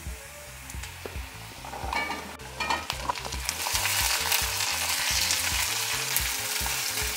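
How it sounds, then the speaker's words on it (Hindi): Potatoes fry with onion, garlic and ginger in a pan, giving a steady close sizzle that grows louder, with stirring scrapes and clatter of a utensil against the pan and no talking. "अब इसको 2-3 मिनट भून लेना है।"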